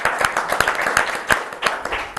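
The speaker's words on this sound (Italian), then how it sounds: "Bravi, un applauso a tutti." An audience claps for rowing athletes at a regional sports program, a short burst of close, uneven hand claps with distinct individual slaps standing out over the crowd.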